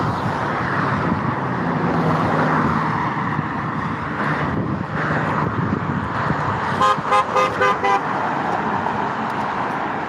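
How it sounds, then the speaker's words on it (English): A red Mazda pickup truck passes on a busy road and honks its horn, a burst of short repeated toots near the end over steady loud traffic noise. "That red Mazda truck, every time they come by every day, they blow their horn."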